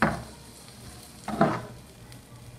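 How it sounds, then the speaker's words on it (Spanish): Salted machaca beef frying on low heat in two spoonfuls of lard, stirred constantly: a soft, steady sizzle with two bursts of louder scraping and crackle from the spoon. "Ya con las 2 cucharaditas de manteca que le has agregado, coces a fuego bajito, moviendo constantemente"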